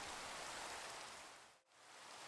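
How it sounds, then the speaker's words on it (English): Steady rain falling in the Minecraft video game, a dense, even hiss that fills the clip. It cuts out sharply for a moment near the end, then resumes. "And it's raining."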